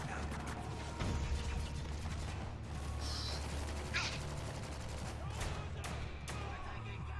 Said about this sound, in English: We're taking some heavy fire!